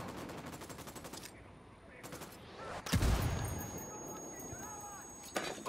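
Rapid automatic gunfire and single shots in a firefight at an enemy camp in the video game Ghost Recon Wildlands, with bursts, a loud booming blast near the middle and continued shooting under game ambience.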